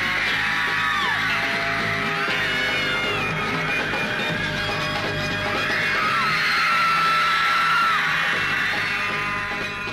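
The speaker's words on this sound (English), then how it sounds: "New Yorkers turned out in force, and making allowance for an American accent, the screams might have been genuine Merseyside." A huge New York crowd screams and shrieks at the Beatles' arrival, a loud, continuous wall of high-pitched yells with no break.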